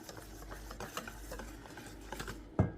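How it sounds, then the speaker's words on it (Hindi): A whisk stirs kadhi pakora batter in a bowl with quick, rhythmic scraping strokes, quiet and close, ending with a sharper clink against the bowl. "तो इसको घोलते हैं, और इसको हम घोलेंगे विस्क से ही।"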